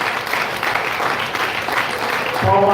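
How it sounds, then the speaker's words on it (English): Audience at a school of management event giving a round of applause to a guest, sustained dense clapping throughout, with a voice starting to speak near the end. "So have the loudest round of applause for Mr. Basant Kumar Padhi."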